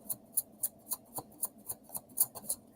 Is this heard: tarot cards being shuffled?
yes